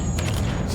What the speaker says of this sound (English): Grenades coming!